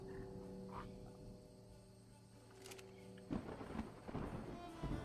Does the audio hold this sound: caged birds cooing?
no